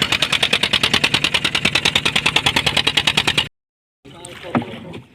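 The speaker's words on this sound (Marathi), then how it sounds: "हे बघा खूप खूप आपली होडी चांगवते धनंजय." A motor boat runs across the water with a fast, regular pulsing engine chug, loud and close for about three and a half seconds, then cuts out, followed by quieter water and wind noise with brief voices.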